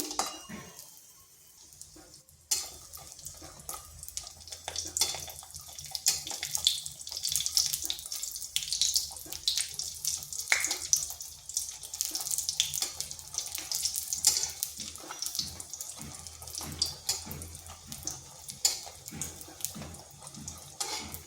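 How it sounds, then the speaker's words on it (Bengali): Lentil dumplings (bori) sizzle in hot oil in a pan, a steady close hiss with crackling spatter that starts abruptly as they go in and continues throughout, with occasional clinks from utensils. "তেলটা গরম হয়ে গেছে, এখানে দিয়ে দিচ্ছি বড়ি। বড়িগুলোকে একটু ভেজে নিচ্ছি।"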